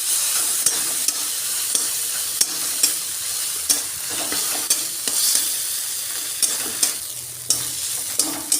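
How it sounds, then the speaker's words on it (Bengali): Beto greens with green-chilli poppy seed paste stirred in a sizzling frying pan. A spatula scrapes in steady, regular strokes about every half second over a continuous close frying hiss, with no talk. "এই পোস্তটা আমি দিয়ে দেবো। দিয়ে এটা বেশ করে নেড়ে চেড়ে নেব।"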